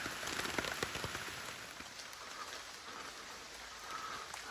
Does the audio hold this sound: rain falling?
yes